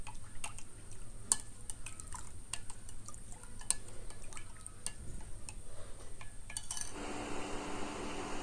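A spoon stirs soy sauce and green chili sauce together in a small bowl, light repeated clinks and taps over a faint hiss, followed by a brief wetter swirl at the end, close and quiet.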